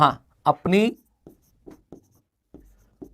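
The closing lines of a Hindi letter are written by hand, with faint, scattered scratches and taps that follow a short burst of nearby speech.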